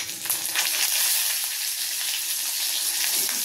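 Brinjal pieces drop into hot oil with mustard seeds and hing in a kadhai, giving a steady bright sizzle with crackling spatters throughout, loud and close, with no talk.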